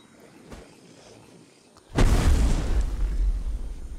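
A grenade blast in the survival video game Mist Survival: after a quiet lead-in, a sudden loud booming explosion hits and rolls on as a heavy rumble to the end.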